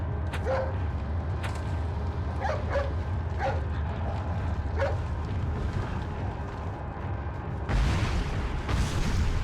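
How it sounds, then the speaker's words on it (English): Dog barking in the video game Resident Evil 4, a handful of sharp barks scattered over a constant low rumbling game soundscape, with a louder burst of noise near the end. "Hey, it's that dog."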